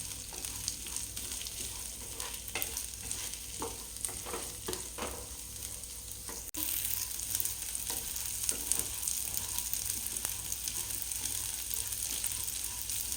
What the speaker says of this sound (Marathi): मध्यम आचेवरती आता हे तांदूळ जवळपास आपल्याला रंग बदलेपर्यंत म्हणजे दहा ते बारा मिनिटपर्यंत छान भाजून घ्यायचे आहे